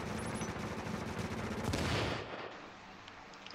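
Gunfire from an online shooter game played in Tomato Team: Rogue Chronicles, a dense spatter of shots filling the first two seconds at moderate loudness, then fading to a quieter tail.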